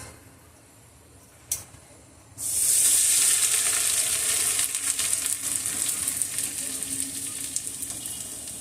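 Grated coconut hits hot ghee in a kadai on low gas and breaks into a loud, steady sizzle that holds to the end. A brief click comes just before it.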